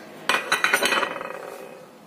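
A spoon clinks and scrapes against a bowl as sweet potato cake dough with flour is stirred, a cluster of sharp metallic taps near the start settling into softer, fading scraping strokes.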